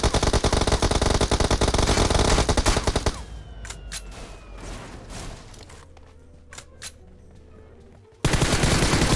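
Gunfire in a mobile battle-royale shooter game: a dense, loud burst of rapid shots fills the opening seconds, then sparser single shots and distant bursts over a low engine rumble, before loud firing resumes at the end.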